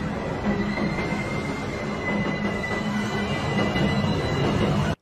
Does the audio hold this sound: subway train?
yes